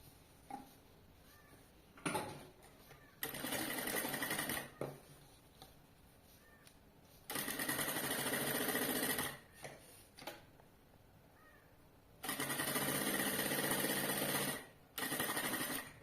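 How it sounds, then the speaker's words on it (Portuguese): A sewing machine stitches the side seams of a backpack's lining in three quiet runs of steady, fast clatter, with short pauses and faint handling noises between them. "Agora eu vou colocar frente com frente ao do forro e vou costurar nas laterais"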